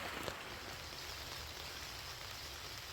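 Steady rain patters on a greenhouse roof, a dense, even hiss of drops that holds at the same level throughout, with no voices.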